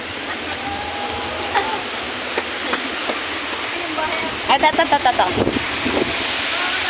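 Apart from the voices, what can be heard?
water rushing from the Wawa Dam outlet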